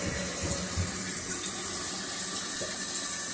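Water rushes steadily into a newly replaced toilet, a continuous, fairly loud flowing and filling hiss with no voices over it.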